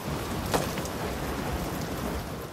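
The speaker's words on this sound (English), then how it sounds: "You can get raindrops on the camera lens." Steady rain in BioShock Infinite, a dense, even hiss of falling drops, loud and unbroken, with no voices.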